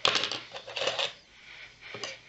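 Small scissors drop and clatter in a few quick, light metallic clicks, fairly faint and close, with no talking.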